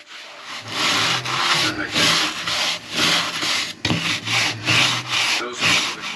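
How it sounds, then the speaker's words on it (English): A brush is scrubbed hard against an interior boat wall being treated for damp, making a rhythmic series of loud, rasping back-and-forth strokes close by, with no talk. "scrub into the corners. So hopefully that'll kill it and get rid of most of it."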